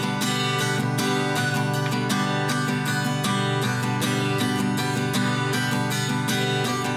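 A guitar is strummed steadily at a quick tempo through a song, its dense, even down-and-up strokes ringing continuously without voices.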